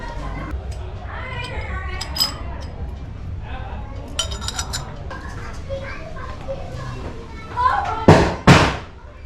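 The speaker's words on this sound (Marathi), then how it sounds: "मुलांची फटाके पण वाजवायला लागले" Amid children playing and chattering in the background during Diwali, a couple of sharp firecracker bangs burst out near the end.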